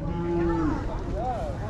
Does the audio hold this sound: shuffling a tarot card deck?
no